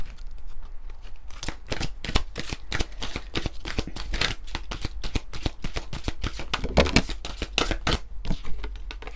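Oracle cards from the Intuitive Soul deck are shuffled by hand in a steady run of crisp, rapid riffling flutters and soft taps, close and fairly loud, with no talking.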